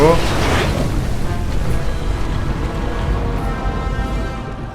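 Waves roll and surge in the Prince of Persia (2008) video game, a steady broadband wash of water that stays loud and continuous throughout with no clear breaks.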